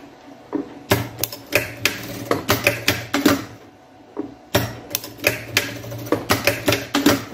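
A sewing machine stitches one side of a men's shoulder bag made with sublimated panels, giving two close runs of rapid mechanical clatter separated by a short pause, with no talking.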